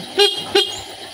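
Two short motorcycle horn beeps from a Honda Vario sound a moment apart, close and fairly loud, over a low steady background hum.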